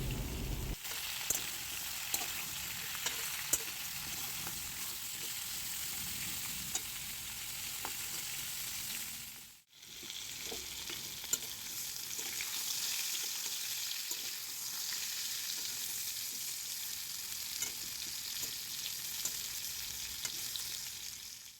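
Pointed gourd vegetables fry in a pan with turmeric and salt, a steady, close sizzle with occasional stirring clicks that briefly cuts out near the middle before resuming.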